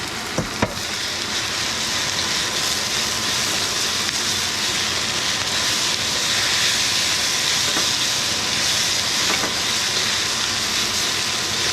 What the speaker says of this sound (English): Basically, you want to stir fry in the order that it's going to take for those vegetables to cook